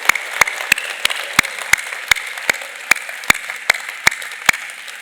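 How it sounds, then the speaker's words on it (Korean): An Easter Sunday church congregation claps in unison: sharp, evenly spaced claps about three per second, a dozen or so in a steady rhythm, crisp and fairly close against a quiet background. "부활하신 주님께 다시 한번 큰 박수 올려드리겠습니다."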